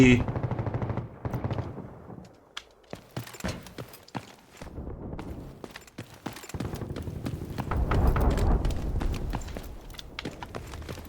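Rapid automatic gunfire in the shooter game Delta Force, with dense bursts and single shots at close range through most of the stretch, mixed with footsteps and busy game noise, and voices faintly underneath.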